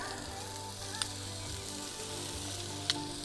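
Shrimp sizzling in ghee butter on a pizza oven, a steady close crackling hiss with two brief sharp pops breaking through.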